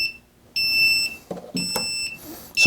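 After a brief quiet, a DRS210Pro quadcopter's shrill electronic beep starts up after losing transmitter signal and repeats in pulses, broken by a few clunky handling noises nearby.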